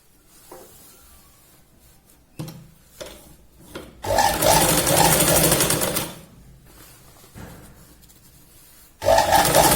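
A sewing machine stitches a Punjabi salwar suit in close, rapid bursts of whirring: a few short taps, a two-second steady run, then another burst starting.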